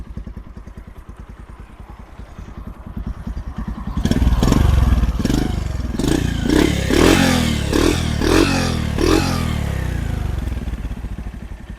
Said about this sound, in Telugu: ఎప్పుడైతే ఆ బెండ్ పైప్ మార్చానో ఈ బీట్ చాలా వరకు అయితే తగ్గిపోయింది, కానీ ఇంజిన్ స్మూత్గా ఉంది.